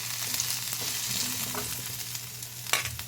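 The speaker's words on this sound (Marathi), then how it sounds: "थोडं तेल सोडायचं टोमॅटो घालायचं भाजायला खोबरं घालायचं" Tomato and coconut frying in oil in a kadai give a steady, close sizzle with occasional stirring scrapes and a sharp clink near the end, with no talking.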